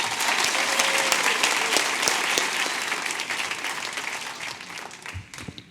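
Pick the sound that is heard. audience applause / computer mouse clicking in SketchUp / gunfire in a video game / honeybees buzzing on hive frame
audience applause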